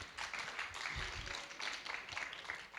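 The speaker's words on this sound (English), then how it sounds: "Let's give him a round of applause as well." Conference audience at a Green Week event gives a round of applause, a soft, even wash of many hands clapping at some distance, continuous throughout with no talk over it.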